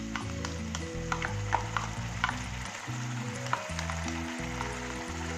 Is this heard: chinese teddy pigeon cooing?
no